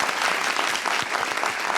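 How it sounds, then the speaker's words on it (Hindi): A studio audience on a Pakistani TV talk show claps for actress Juggun Kazim, a dense, loud burst of applause that fills the room close-up and stays steady throughout. "तालियां"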